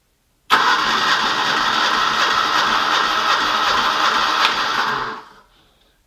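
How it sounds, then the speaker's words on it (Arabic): A car engine cranked directly at the starter through connected cables turns over and runs with a steady, loud mechanical drone for several seconds, then cuts off and winds down into near silence. "وبالنسبة للتدوير المحرك مش نقوم بواسطة ربط الكابلوهات هذوما اللي لهنا في الستارتير باش ندور بدون أن نمشي للسيارة"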